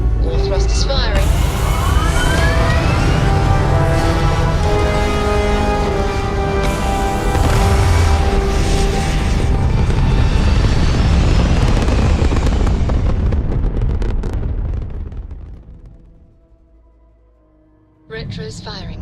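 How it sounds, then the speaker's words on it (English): Spaceship thrusters fire in Starfield with a loud, sustained roaring rumble lasting most of the time and layered with tonal whooshes, then fading out near the end before a brief burst returns. Voices are heard over the roar. "All thrust is firing."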